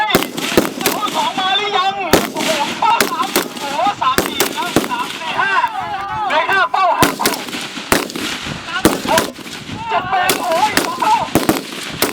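M16 rifles fired at a military shooting competition outdoors: loud, sharp shots cracking out in irregular succession, some close together, while people talk throughout.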